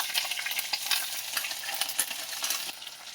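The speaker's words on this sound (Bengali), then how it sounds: "এবার তেলের মধ্যে একটু কালো জিরে দিয়ে দেবো, একটু আদা বাটা দিয়ে দেবো, একটু জিরে বাটা দিয়ে দেবো" Nigella seeds, ginger paste and cumin paste fry in hot oil after fish has been fried, giving a close, bright sizzle with crackling and stirring scrapes throughout.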